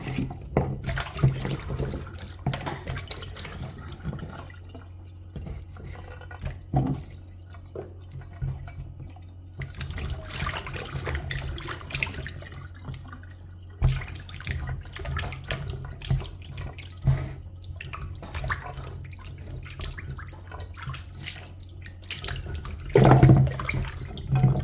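Dry coconut pieces rinsed under a running kitchen tap for Jamaican rice and peas: a steady stream of water with splashing and occasional clatter as the pieces are handled, no voices.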